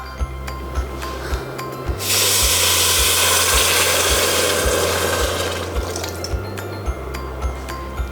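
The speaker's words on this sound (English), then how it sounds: "And now I'm just gonna add some water." Water is poured into a pot of spiced lentils for sweet potato and chickpea dahl, a steady rushing pour lasting a few seconds between light clinks and a rhythmic low tapping.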